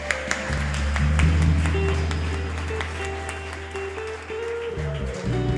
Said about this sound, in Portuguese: Aplauda o nome dele aí.